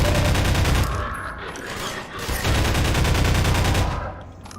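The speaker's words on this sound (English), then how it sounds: "Where are they shooting now?" Gunfire in the video game Half-Life 2, loud rapid automatic bursts in two close volleys separated by a short lull, with no speech over them.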